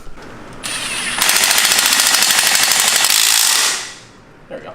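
A Suzuki DRZ motorcycle engine runs with a straight header and no muffler, a loud harsh rapid-fire rattle that kicks in, grows louder and holds for a few seconds, then drops away to quiet.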